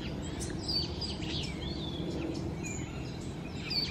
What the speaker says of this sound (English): So many different kinds of birds and things here.